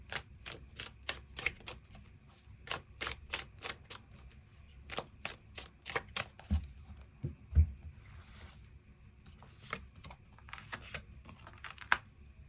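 Tarot cards are shuffled and drawn, giving rapid crisp riffling clicks in quick bursts followed by softer sliding and flicking of cards on a table, close and quiet.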